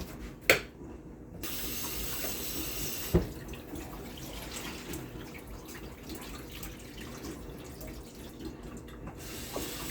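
Tap water runs steadily into a sink as thinly sliced beef is rinsed, a soft continuous splashing with a couple of sharp knocks early on.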